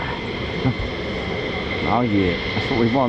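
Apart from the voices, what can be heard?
F-35 fighter jets taxiing at RAF Lakenheath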